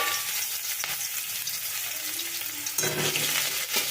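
Chopped garlic sizzling in hot oil with fried nigella seeds for a kachki fish chorchori, a steady close frying hiss with stirring scrapes and a louder burst of sizzle toward the end.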